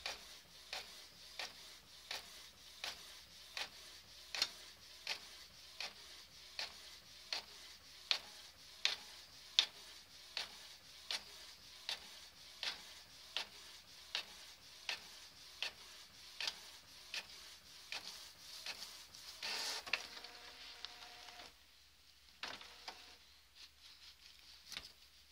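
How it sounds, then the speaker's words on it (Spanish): A home inkjet printer prints images onto rice paper with a steady, regular tick of the print head sweeping back and forth, quiet and close, ending in a short rustling feed. "Lo ha pillado, está imprimiendo"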